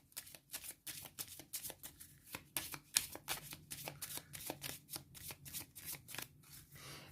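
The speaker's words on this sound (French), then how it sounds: "Allez, je mélange les 2 cartes hiver" Cards from the Forêt Mixte card game are shuffled by hand in quick, rhythmic riffles and taps, close and soft, a steady run of crisp flicks for several seconds.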